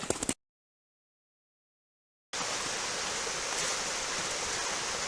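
A small river flows through winter woods on a hike, its steady broadband rushing filling the clip after a brief cut to silence near the start.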